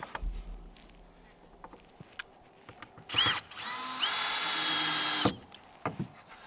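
A power drill drives fasteners through 1x4 boards and OSB sheathing into wall studs, giving a short burst and then a sustained whine of about a second, close and loud, with scattered tapping and handling noises around it.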